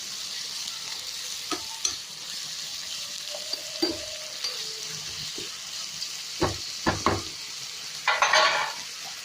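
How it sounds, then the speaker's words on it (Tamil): Cashews and raisins fry in ghee in a pan for Arabian majboos biryani, a soft continuous sizzle broken by a few sharp scrapes and clinks of a spoon stirring them, close and quiet. "இது ஒரு ப்ரௌனிஷ் ஆகிற வரைக்கும் நம்ம கிளறி விட்டுருக்கோம்."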